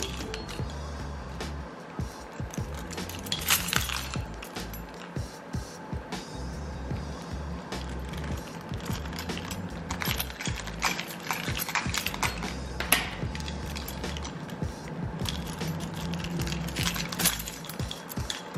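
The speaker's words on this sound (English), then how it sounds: "So what I want to do is just start putting my keys" Metal keys and washers being fitted onto a red KeySmart Pro key organizer, with repeated close clicks, creaks and metallic clinks in an uneven rhythm over a low background hum.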